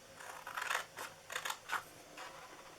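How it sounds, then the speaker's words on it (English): Scissors cutting a paper gift box template, a few short crisp snips in quick succession, close and fairly quiet. "So just cut down on all of these first."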